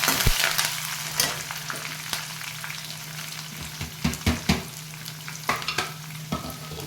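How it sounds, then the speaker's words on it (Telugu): Raw bitter gourd pieces fry and sizzle steadily in a pan for Telugu-style kakarakaya fry, with a spatula repeatedly stirring and scraping through them in a cluster of clacks near the end; no one speaks. "ఆల్మోస్ట్ కాకరకాయ కారం, కాకరకాయ పచ్చి ముక్కల ఫ్రై అయిపోయింది."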